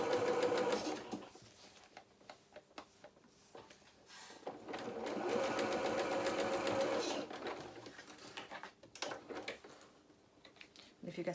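Sewing machine stitching slowly around the arm of a doll jacket, close and fairly quiet, in uneven runs with clicks and handling sounds between.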